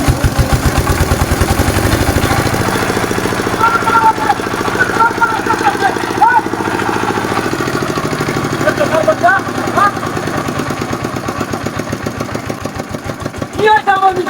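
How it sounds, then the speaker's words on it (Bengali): A machine engine starting and running on its own, with a loud, close, steady chugging idle that keeps a regular rhythm throughout, and voices faintly heard around it. "হাই মেশিন আমার আমনে আমনে স্টার্ট হয়েছে গা"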